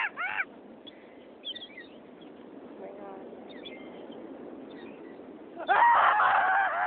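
Seagulls being fed call out with brief harsh cries at the start, then a loud, close burst of squawking near the end, over steady outdoor background noise.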